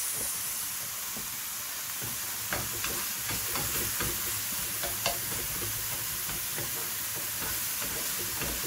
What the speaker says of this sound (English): Also, it is frying a little,